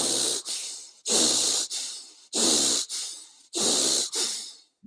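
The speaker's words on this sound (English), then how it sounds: "In and out through the nose, breathing high up into the chest. And it's done quite fast and quite strong." Fast, strong breaths in and out through the nose, four to five forceful sniffing cycles close to the mic, each a loud hissing rush with short gaps between, and no talking.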